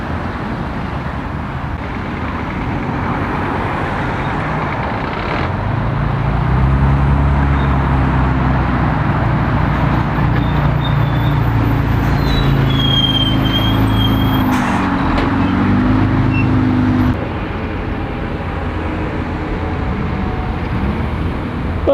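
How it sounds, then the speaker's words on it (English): School buses pass on a road, bringing a long swell of engine and tyre noise that builds, peaks around the middle and fades again over a steady background hum. Nobody speaks. "The school buses are coming out and about now."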